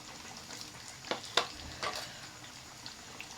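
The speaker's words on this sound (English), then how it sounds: "we make sure to fry in a low heat, in a medium heat, so that our plantain will come out very perfect and lovely" Ripe plantain frying in oil over low to medium heat, a faint soft sizzle broken by a few brief crackling pops.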